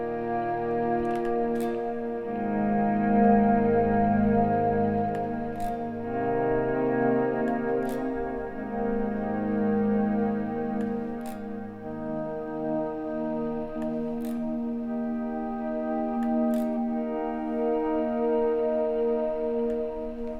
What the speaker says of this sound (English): So the last pedal is the Boss RV6, which I just have set to a really big reverb sound.